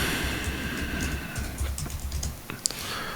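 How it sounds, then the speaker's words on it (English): Fingers type on a computer keyboard in a loud, rattling stream of clicks over a steady low hum, with a sharper keystroke near the end and no speech. "why am I typing these X's in parentheses?"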